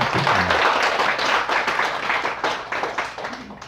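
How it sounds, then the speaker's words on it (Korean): A room full of people at a study gathering applauds together, a dense patter of clapping that holds steady for a few seconds and then tapers off. "감사의 박수 한번 하고 시작할까요?"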